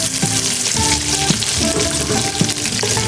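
Oil sizzling steadily in a frying pan as sweet potato cooks, a continuous bright crackle with occasional clinks of a utensil against the pan, close and loud throughout.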